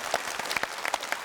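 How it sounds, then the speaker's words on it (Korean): A studio audience on a 1992 Korean TV variety show claps in warm, continuous applause. Many hands patter together at a steady, moderate level. "박수 좀 많이 주셨으면"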